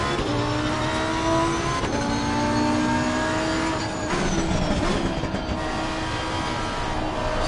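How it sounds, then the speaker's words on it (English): A race car engine in Assetto Corsa Competizione on PS5 screams at high revs and holds against the rev limiter, a loud, continuous engine whine with shifting pitch and brief drops. "That rev limiter sounds sick, by the way."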